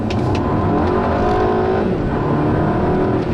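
A 2012 Volkswagen Eos accelerates hard with a loud, close, rising engine roar and tire noise, sustained throughout with no voices.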